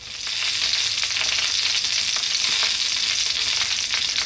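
Sausages for bangers and mash fry on low heat in a pan, a steady, dense crackling sizzle that holds evenly throughout, close and fairly loud, with no voices.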